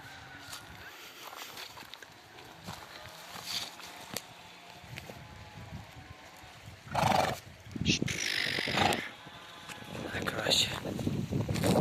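A pregnant Percheron mare whinnies amid outdoor noise on a farm, with shuffling and bumping sounds and a few louder bursts toward the end.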